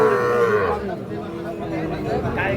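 A Sahiwal bull calf about eight to nine months old moos loudly and at length at a busy cattle market, with crowd chatter behind it.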